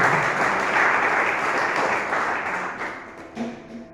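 A church congregation applauds together in a steady, dense wash of clapping that stays loud for several seconds, then thins and fades toward the end.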